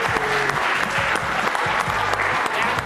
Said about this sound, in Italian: un applauso a Fabio Guidò